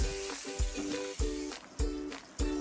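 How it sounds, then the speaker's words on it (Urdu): Finely chopped onions sauté in hot oil: a steady close sizzle with periodic stirring scrapes roughly every half second, no voices. "پیاز کو ہلکا سا ہم سوتے کر لیں گے"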